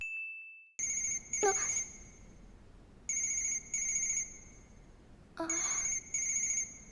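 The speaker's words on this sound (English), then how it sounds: "Will somebody answer that damn phone?" Telephone ringing in repeated electronic bursts, each ring a bright warbling double tone with short gaps between, close and clear, with a brief voice-like sound between the first rings.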